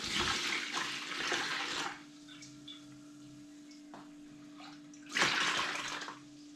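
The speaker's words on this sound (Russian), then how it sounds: "Сейчас его выливаем в такую вот емкость, аккуратненько, полностью все содержимое" Cooled salt brine is poured into a container for salting pike. Two separate splashing pours are heard, each lasting a second or two, with a quiet steady hum in between.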